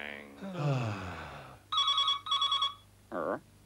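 A telephone bell rings in two bright, evenly spaced bursts, close and clear, following a stretch of talking, with a short vocal sound just after.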